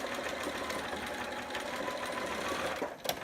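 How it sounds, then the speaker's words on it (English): A sewing machine runs steadily while backstitching along a romper seam, a continuous close mechanical hum that ends with a brief sharper clatter near the end. "when I get to the end, I'm going to make sure I back stitch really well"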